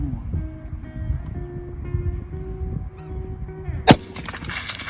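During a hunt a single sharp gunshot cracks out near the end, over a steady low rumble and hum of outdoor background noise.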